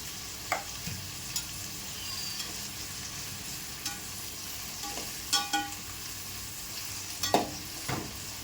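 Green chillies frying in a pan for pepper chicken gravy, a steady low sizzle with occasional spatula scrapes and stirring clinks, close by and no talking.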